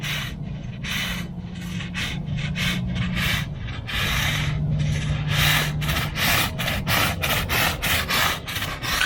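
A stiff brush scrubs back and forth over an aging concrete sidewalk in steady rhythmic rasping strokes, close and fairly loud, with no voices.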